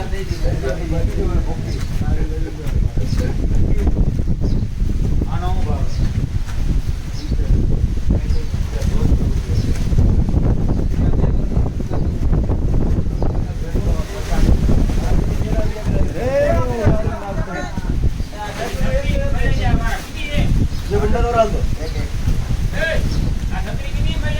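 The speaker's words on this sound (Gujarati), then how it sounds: "આજે પવન ફૂલ અને ફૂલ વરસાદ ચાલુ છે" Strong wind and heavy rain during a downpour roar as a loud, continuous rush of noise that buffets the microphone, with people talking underneath throughout.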